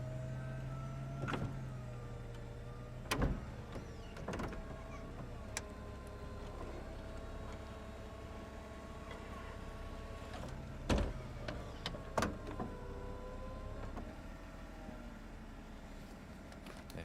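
A BMW E93 328i convertible's retractable hardtop folds away with a steady electric motor whir lasting the whole stretch, broken by several mechanical clunks and latch clicks as the panels stow; no one speaks.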